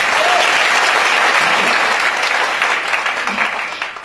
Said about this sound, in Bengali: তার মানে যে মানুষটা আমন্ত্রণ করেছে তার জন্য কি একটু করতালি আশা করা যায়?